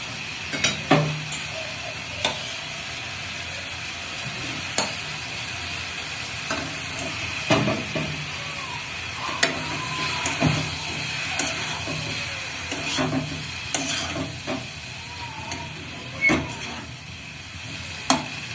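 Malabar spinach leaves and stems with turmeric and salt cook in a pan, a soft steady sizzle broken by repeated scraping and stirring clicks at irregular intervals.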